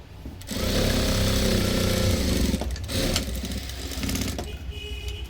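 A sewing machine runs steadily while topstitching a strip of fabric onto a blouse, its loud motor whir pausing briefly and restarting, with no talk.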